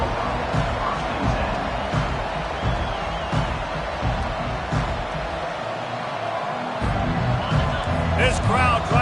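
Stadium crowd roar from the NCAA 25 college football video game, a steady loud wash of noise with swelling cheers, under continuous play-by-play commentary.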